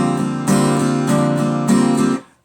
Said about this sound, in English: you'll hear that bass ascend.